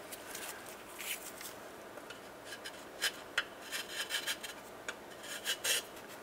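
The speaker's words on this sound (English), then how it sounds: "Using a razor blade, carbide scraper, or light abrasive, go through and clean the mating surface." A razor blade, carbide scraper or light abrasive works over an engine mating surface on a 2000-2006 Toyota Tundra during knock sensor replacement, giving soft, close rasping strokes that sharpen into quick irregular scrapes toward the end, alone and fairly quiet.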